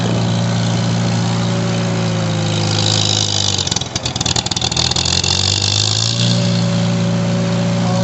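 An IH 120 mower engine labouring in second gear, a steady close drone that dips and roughens midway as it bogs under load, then recovers to an even hum.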